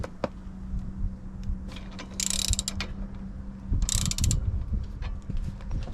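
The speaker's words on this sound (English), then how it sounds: "once you've got it loosened off with the ratchet, just remove it with your hand" A ratchet clicks quickly in two short bursts while loosening a brake caliper bolt on a Ford Fiesta EcoBoost, with faint handling noises and a low hum between the bursts.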